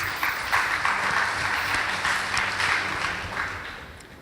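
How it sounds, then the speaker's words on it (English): An audience at a high school debate competition applauds a team, steady dense clapping that holds evenly for about four seconds at moderate distance. "Please give them a round of applause."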